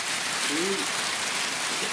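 Rain coming in during a Coues deer hunt outdoors: a loud, dense, steady hiss of falling rain filling the scene, with a brief faint low tonal sound partway through.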